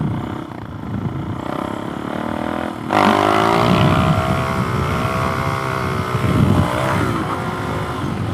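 Suzuki DRZ 400 SM motorcycle on new GPR 300 tires, engine droning steadily and rising in pitch as it revs up hard for a wheelie, loud and close, with wind noise throughout.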